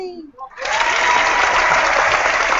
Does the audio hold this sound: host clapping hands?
yes